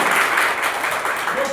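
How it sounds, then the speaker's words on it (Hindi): Applause from a seminar audience in a hall, a steady dense wash of clapping throughout with a faint voice murmuring underneath. "तो अपने लिए जोरदार ताली बजा देते हैं।"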